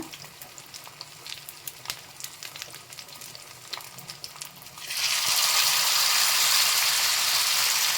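Marinated mint fish fries in a pan. A quiet, scattered crackle swells at about five seconds into a loud, dense, continuous sizzle that holds steady and close to the end.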